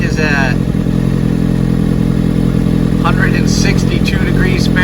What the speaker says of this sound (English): See how it's kind of got a hesitation in the idle?